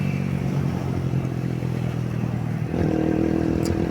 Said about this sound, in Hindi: बाइक बहुत अच्छा चल रहा है।